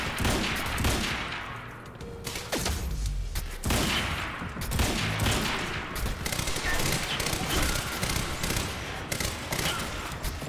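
Rapid gunfire bursts in the video game Quantum Break, loud and close, with dense overlapping shots rattling almost continuously and a brief lull near the start.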